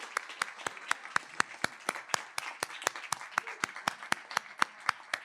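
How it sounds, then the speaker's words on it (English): At an environmental sciences departmental graduation ceremony, a crowd gives a soft round of applause. A steady, evenly spaced clapping beat stands out above a faint, distant background of scattered claps. "let's have a big round of applause for the family, friends, and supporters of our graduates."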